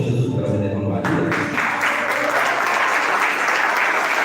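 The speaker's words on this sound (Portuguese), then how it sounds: "aplauda o Senhor Jesus pela vida da irmã Maria" A church congregation bursts into sustained applause, dense close clapping that swells after a second and continues steadily, with a voice speaking over the start.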